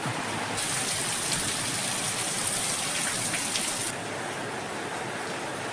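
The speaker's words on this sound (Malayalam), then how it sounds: "നമ്മുടെ ഗസ്റ്റ് ഹൗസിലൊക്കെ ഒരു നല്ല മഴ കിട്ടുന്നുണ്ട്" Steady rain pours down at a guest house with a dense, hissing wash, heavier for a few seconds and then easing slightly.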